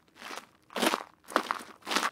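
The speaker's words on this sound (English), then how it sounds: "Let's go and search for footsteps." Footsteps sound effect of four crunchy steps on gravel-like ground, evenly spaced, close and dry with short gaps of silence between them.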